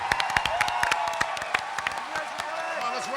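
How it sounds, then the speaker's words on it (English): Audience at a Star Wars voice actors convention panel in a main hall breaks into dense, loud applause mixed with cheering and whoops, sharp individual claps standing out throughout. "Big round of applause"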